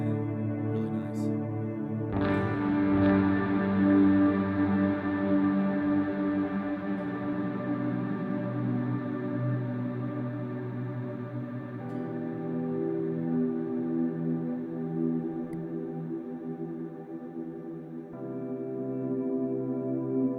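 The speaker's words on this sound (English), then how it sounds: "Let me show you some swells here. I have this swell patch, but it's got an auto swell on it, so you can just strum." Electric guitar swells through an HX Stomp auto-swell patch, strummed chords fading in softly and sustaining as a thick, layered pad, with a second swell entering near the end.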